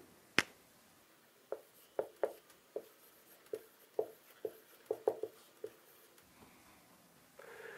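Sparse pen or pencil taps and short strokes on paper while drawing a building floor plan of an open-plan office split into two rooms, faint and close, with quiet pauses between marks.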